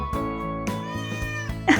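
A cat meows up close in a drawn-out, wavering cry that repeats in short pulses, ending with a brief rustle.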